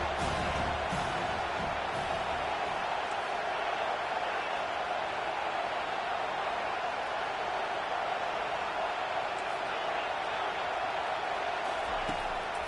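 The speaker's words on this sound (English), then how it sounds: "Decibels rising as the crowd gets behind this defense on third down." A football stadium crowd roars steadily as the home defense faces third down, a dense, loud wall of cheering and noise holding without break, with faint announcer speech at the edges.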